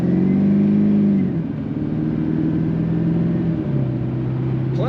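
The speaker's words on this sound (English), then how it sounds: "Plenty of torque, lots of fun to push the throttle down on this truck." A 2002 Chevrolet Silverado 2500HD with a 6.6L Duramax diesel accelerates, its steady engine drone stepping down in pitch with gear changes, heard loud and close from inside the cab without talk.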